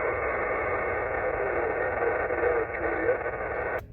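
Steady ham radio static hiss during a Parks on the Air activation at a state park, with a weak, barely audible signal buried near the noise floor, cut off abruptly at the end.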